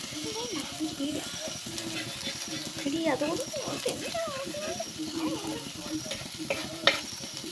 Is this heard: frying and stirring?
yes